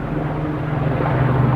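Helicopter passing over a mountain valley in southern Switzerland, a steady low engine drone with a strong low hum, continuous and moderately loud throughout, with no one speaking.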